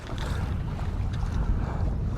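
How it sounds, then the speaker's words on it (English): Wind buffets a fishing boat on choppy water on the California Delta, a steady loud rumble of gusts against the microphone with no voices. "it's a little windy today,"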